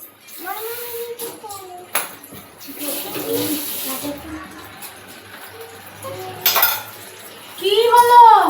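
Metal clattering and scraping as food is stirred in a kadai (wok) on a gas stove turned up high, in irregular bursts near the start and end with talking and a voice in between.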